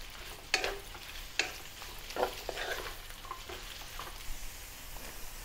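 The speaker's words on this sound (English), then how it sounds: "And continue stir frying." Bitter gourd sizzles steadily as it is stir-fried in a hot wok while a spatula scrapes and clinks against the pan at irregular intervals.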